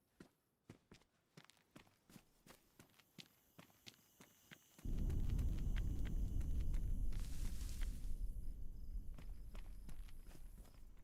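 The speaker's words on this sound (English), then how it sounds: "I can hear footsteps already." Footsteps in a multiplayer survival video game, a rhythmic series of distinct steps that continue over a sudden loud rumbling roar of ambient game sound.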